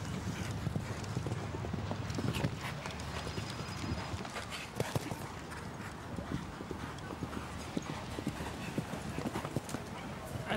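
Horse hooves gallop across a show jumping arena during a speed classic, a rapid rhythmic clip-clop of thudding hoofbeats running continuously under a commentator's voice.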